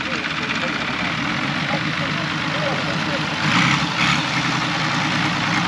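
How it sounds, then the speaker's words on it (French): Truck with a six-cylinder inline engine idling nearby, a steady, deep, muffled rumble that swells a little louder toward the end. "À mon avis c'est un moteur de camion."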